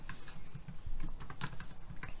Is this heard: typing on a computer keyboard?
yes